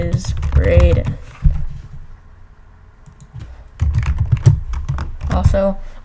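Fast bursts of typing on a computer keyboard, close and crisp, broken by a short pause, with someone talking over and between the keystrokes.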